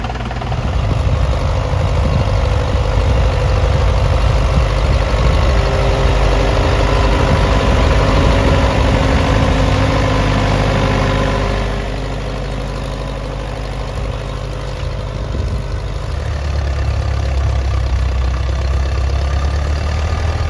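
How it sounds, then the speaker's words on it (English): Steady, loud low engine chugging of an old Farmall tractor at idle with a knocking rumble, easing slightly in level partway through and continuing without any voices. "Hear that steady engine sound?"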